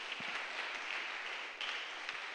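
A church congregation applauds in worship, giving a faint, steady wash of clapping that stays distant and even for a couple of seconds.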